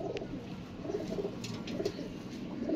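Golden pigeons cooing on a rooftop loft, soft repeated low coos in an uneven rhythm, close and moderately quiet, no talk.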